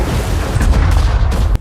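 A building in a film blows up after a grenade goes off, a loud, heavy booming blast with rumbling low end and crackling bursts over about a second and a half.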